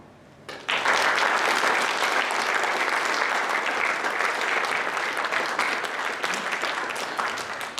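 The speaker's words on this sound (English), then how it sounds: "Big round of applause for all of our Hall of Fame inductees" Applause at a college athletics Hall of Fame ceremony bursts in after a short quiet moment and holds as a dense, steady wash of clapping from a large audience, easing only slightly toward the end.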